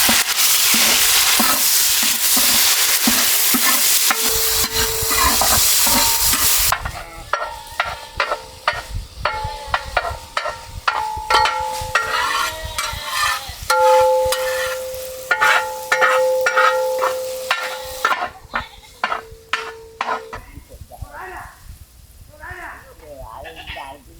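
Onions frying and being stirred in a village kitchen pan until golden, a loud steady sizzle that gives way to repeated scraping stirs with faint bleating animals in the background.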